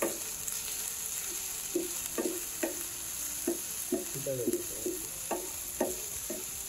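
Spices and chili powder frying in a pan give a quiet, steady sizzle under a faint high whine, broken by irregular spatula scrapes and taps as they are stirred. No one speaks.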